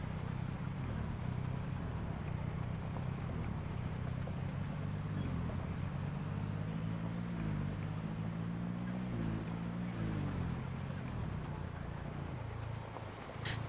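A squeaky car engine in a video game drones steadily and loudly for the whole stretch, its low pitch rising and falling in wavering steps as it runs.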